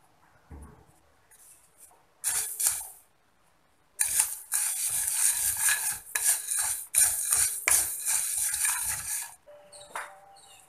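Coriander seeds dry-roasting in a hot pan without oil, stirred with a metal spoon: bursts of scraping, rattling stirring close up, separated by short pauses, loud against an otherwise quiet kitchen.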